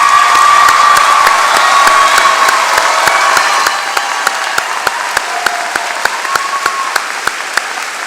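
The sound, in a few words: commencement audience applause for first-generation graduates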